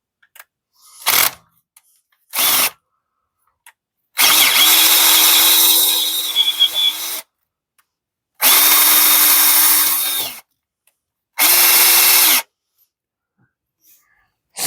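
Craftsman cordless drill drilling during a blown spark plug repair, heard in several separate bursts: two short blips, then three longer whining runs of a few seconds each, loud and close with quiet gaps between.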